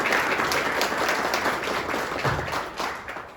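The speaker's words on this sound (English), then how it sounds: "Let's give them a round of applause." A luncheon audience applauds at a Media Institute event, a dense, loud and sustained wash of clapping that fades slightly toward the end, with no talking.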